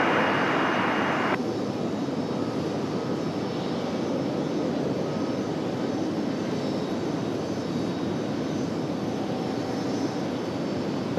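A jet airliner lands on runway 23 left at Raleigh-Durham International Airport, its engines a steady, broad roar heard from a distance that holds even and unbroken throughout.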